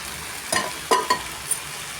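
Boiled jackfruit pieces frying in a pan for masala curry, a steady close sizzle with three or four distinct spatula scrapes and knocks.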